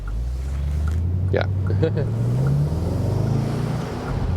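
A 2020 Bentley Continental GT V8 rumbles at low, steady revs with a deep muffled idle tone that swells slightly midway, while someone talks briefly over it.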